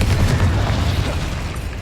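Confringo blasting spell detonating in Hogwarts Legacy combat: a heavy, rumbling boom with dense low-end roar that rolls on without pause, loud and close, slowly tapering in level.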